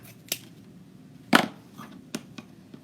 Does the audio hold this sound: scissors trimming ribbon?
yes